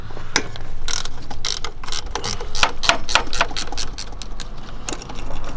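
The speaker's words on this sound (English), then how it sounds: "I recommend getting like a self-ratcheting wrench, just makes your life a lot easier" A self-ratcheting wrench clicks rapidly while loosening 12mm bolts on the EGR valve of a Mitsubishi Delica, loud close bursts of ratchet pawl ticks in quick repeated strokes with brief pauses.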